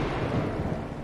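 Low rolling rumble of thunder in the game Bendy and the Dark Revival, a short, steady, muffled roll lasting about a second with no distinct crack.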